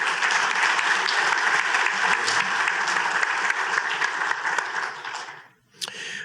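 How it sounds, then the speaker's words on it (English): A large audience at a charity summer soiree gives honorees a sustained, dense round of applause that fades near the end, briefly drops to near silence, then resumes faintly. "how about a big round of applause for all of them?"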